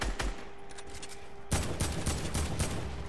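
Rapid gunfire in the battle royale video game Fortnite, with a thinner volley followed by louder, denser bursts of shots crackling close by.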